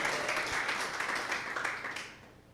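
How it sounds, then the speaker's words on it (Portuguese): A church congregation gives a short round of applause, a dense wash of many hands clapping together that carries on steadily and then fades out near the end. "Vamos dar um aplauso ao Senhor?"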